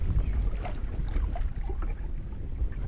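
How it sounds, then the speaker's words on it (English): Wind gusts across open water around a small fishing kayak in the Ft. Drum Conservation Area, a steady low rumble with light water lapping, close and moderately loud. "Wow, wind's picking up."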